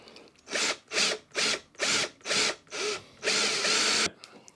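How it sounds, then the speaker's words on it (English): A power drill with a step drill bit cuts holes in a power supply enclosure, whining in about seven short bursts with brief pauses between them, the last burst longer, close and clear. "there's our holes drilled for this end"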